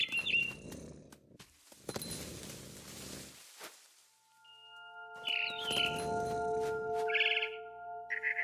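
A barn swallow chirps outside a window in What Remains of Edith Finch, brief high tweets in short bursts with rustling and flutter between them, over a quiet ambient backdrop and tonal music.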